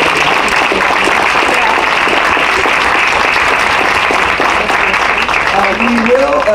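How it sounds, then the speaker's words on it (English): Steady, loud applause from an audience fills the whole stretch, dense clapping without a break, with faint voices emerging near the end. "How about a round of applause?"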